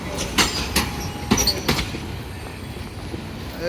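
A moving passenger train from Kishorganj rolls along with a steady rumble, broken by several sharp clicks and clacks of wheels over rail joints, loud and close throughout.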